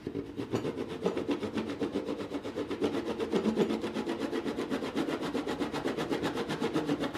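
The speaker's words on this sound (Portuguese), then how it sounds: "cortar isso rente com um serrote" A handsaw cuts flush through wood in steady back-and-forth strokes, a close, even rasping rhythm that continues throughout with no talking.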